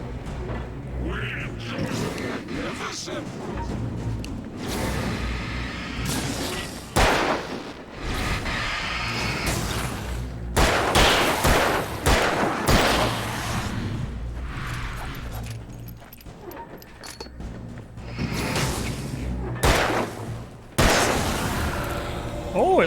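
Gunshots ring out in the video game Alan Wake as a series of sharp, booming blasts spaced irregularly over several seconds. They carry over a low, murky game ambience with some talk.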